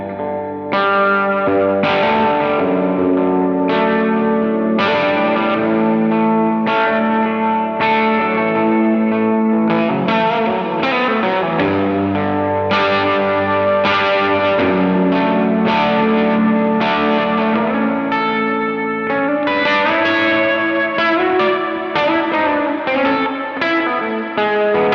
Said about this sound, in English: Let's make it a huge hall.